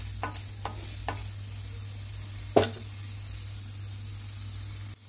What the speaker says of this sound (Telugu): ఈ పప్పులన్నీ కొంచెం ఫ్రై అయ్యాక కలర్ వచ్చేంత వరకు ఫ్రై చేసుకొని ఫ్రై చేసుకోవాలండి.